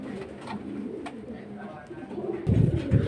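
Caged pigeons at a pigeon market give soft, low coos that grow a little louder toward the end, with a person talking nearby.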